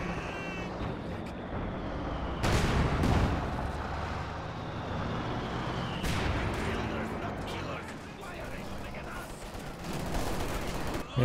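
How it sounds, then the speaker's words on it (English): Machine gun fire in Company of Heroes 2, with sustained battlefield rattle and sharp gunshot bursts, loud and continuous, mixed with distant artillery-like thumps and faint background voices. "Let's get his machine gun cooking as well."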